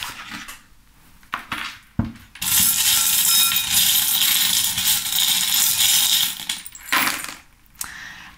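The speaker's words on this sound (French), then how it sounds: "on va passer au tirage des breloques" Small metal charms are shaken and cast for a divination reading, giving a few sharp clinks followed by a long, loud jingling rattle of the pieces tumbling together, then a couple of final clatters, close up with no talk.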